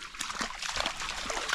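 Water sloshes and splashes close by as a dog lies down and shifts around in it, with soft trickling throughout.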